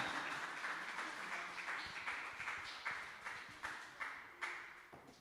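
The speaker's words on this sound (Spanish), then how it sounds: "Denle un fuerte aplauso y un fuerte grito de alegría." A church congregation claps during a Sunday service, a faint, distant wash of steady applause with a loose rhythmic pulse and no clear voices.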